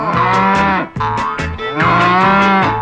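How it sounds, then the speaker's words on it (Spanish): A cow moos several times in a row inside a children's farm song, loud, drawn-out bellowing lows sounding close and clear with short pauses between them. "A la vaca yo la ordeño, para eso soy el dueño."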